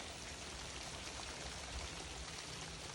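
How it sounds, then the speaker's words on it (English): Steady rain falls in a constant soft hiss with fine patter, even and unbroken throughout, no voices. "I bet the rain don't look nowhere near as bad, does it?"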